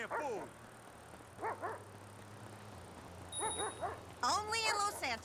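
A dog in a GTA roleplay scene at the Del Perro carnival and beach area gives short, yelping barks in scattered bursts, closing with a longer run of whining yips, over a low steady background hum.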